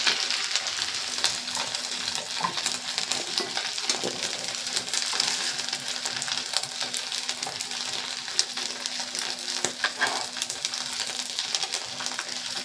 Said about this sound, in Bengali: একইভাবে সবগুলোকে আমি ভেজে নেব।